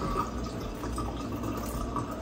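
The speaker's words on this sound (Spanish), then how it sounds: "yo lo que hago es botarle un poquito del agua porque es demasiada agua" Excess cooking water poured off from a pot in a home kitchen: a steady, continuous trickle and splash of liquid at close range, with no talking.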